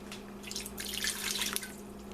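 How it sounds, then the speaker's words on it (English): Water pouring from a tap into a pressure cooker pot while making chicken for chicken salad, a steady splashing, trickling stream with some dripping, close and moderately quiet, with no talking. "So I'm going to add 2 cups of water. Actually, I'm going to add another cup."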